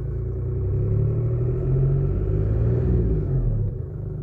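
Audi/VW 1.4 TDI diesel car engine revving up under acceleration, a steady low rumble that swells and holds for several seconds before easing slightly, close and fairly loud with no talk.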